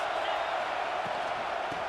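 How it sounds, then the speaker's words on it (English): Stadium crowd noise from the video game EA Sports College Football 26, a steady, distant roar of a packed crowd before halftime, with no distinct voices standing out. "This crowd trying to make life miserable for this offense."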